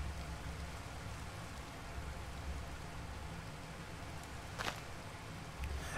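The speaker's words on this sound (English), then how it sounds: "Oh, it's raining." Video game rain: steady broadband hiss of rain falling, constant and fairly even, with a brief brighter splash or rustle partway through.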